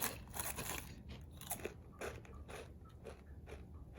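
Crunchy fast-food fried chicken crackles loudly as it is bitten and chewed up close, with repeated brittle crunches over about four seconds and no talking.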